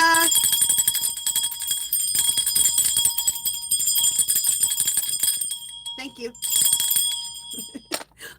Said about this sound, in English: I love shaking those bells.